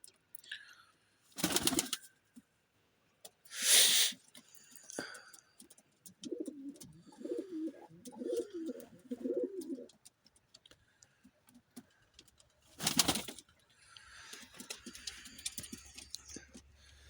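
Pigeons coo softly in a run of low murmuring calls midway through, between sharp louder knocks and rustles nearby, with a faint steady hum at the end.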